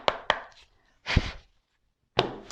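A deck of tarot cards is cut and shuffled, with sharp riffling bursts near the start, a longer swishing shuffle in the middle and another at the end, close and clear with no talk.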